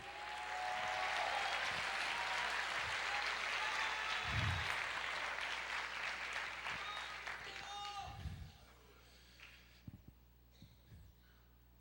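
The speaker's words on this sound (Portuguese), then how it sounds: "Aplauda o Senhor, libere o júbilo." A church congregation applauds in a dense, sustained burst of clapping for several seconds that fades out, with low thumps and voices scattered through it.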